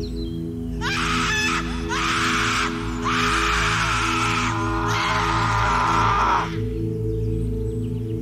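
Screaming, wailing cries of victims rise in several long, strained bursts over a steady low musical drone, then break off and leave the drone alone.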